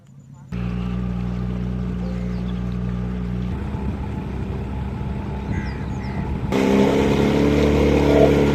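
Motorboat engine on the flooded Bhavani river, a steady close drone that starts abruptly after a brief pause and swells louder toward the end, with people talking over it.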